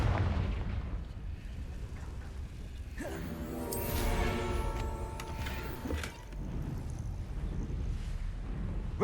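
A Confringo fire spell explodes in the video game Hogwarts Legacy, a booming blast with a rolling, crackling tail that fades over several seconds amid steady game ambience.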